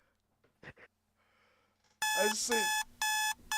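An alarm clock goes off in a DDLC mod video game. A few quiet clicks and a brief spoken word come first, then loud, repeated beeping bursts ring out in a steady on-off pattern.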